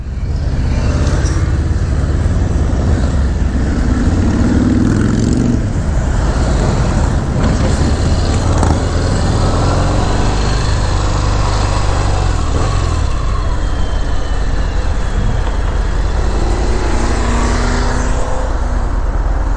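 A Harley-Davidson motorcycle, a 2022 Low Rider ST or a 2021 Fat Bob, rumbles steadily and loudly while being ridden, with a deep continuous engine drone and wind noise. No voices are heard.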